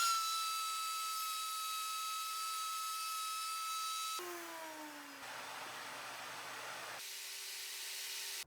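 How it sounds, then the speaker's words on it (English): A router table fitted with a 1/2-inch bit cuts a truss rod slot in wood, a steady high motor whine that drops in pitch and roughens as the bit bites into the workpiece, then settles again; no talk. "I've got a 1/2 inch bit in the router table"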